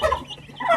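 Turkeys gobble in quick, rattling bursts, two calls close together and fairly near, with no talking.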